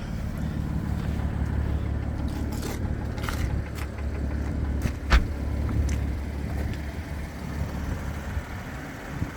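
A 2018 BMW M4 Ultimate Edition with a titanium M exhaust gives a steady, deep low rumble that holds through the whole stretch, with one brief sharper burst midway and no voices.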